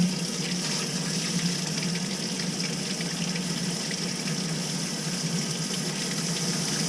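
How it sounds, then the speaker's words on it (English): Hot water gushing steadily from a tap on a heating system fitted with a Honeywell thermostatic mixing valve on a Weil-McLain Ultra Plus boiler, a continuous close hiss and rush with no talk. "Here comes the hot water."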